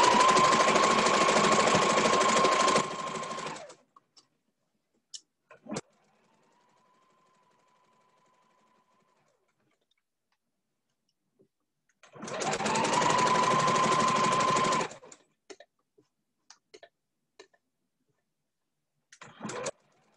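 An electric sewing machine stitching a ribbon skirt runs in two loud, steady bursts of rapid whirring, separated by quiet handling clicks.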